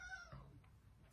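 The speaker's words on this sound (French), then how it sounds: "il y a le chat qui s'excite." An excited cat gives one drawn-out meow that slides downward and fades, quiet and alone in a home.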